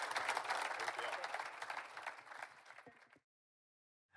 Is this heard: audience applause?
yes